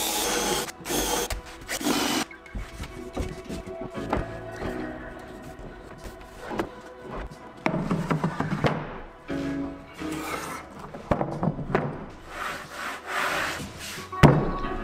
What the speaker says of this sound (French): il faut que je mesure et puis que je perce